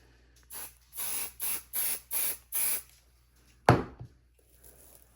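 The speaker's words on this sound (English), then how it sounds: "spray that batting." Spray adhesive hisses from an aerosol can onto quilt batting for a quilted pot holder, in five quick close bursts, followed by a soft handling thump and faint rustle.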